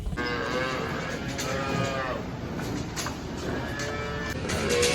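Calves mooing repeatedly inside a livestock trailer, several overlapping bawls close by over steady low rumble and rattling, with no talk.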